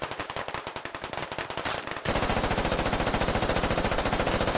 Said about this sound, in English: From the northeast element, music adding in some AR fire here.